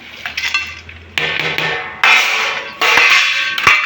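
Batter for dhokla being stirred with chopped onion and legumes, a utensil scraping and clinking against the pot in short bursts of wet mixing, close and fairly loud with no talk.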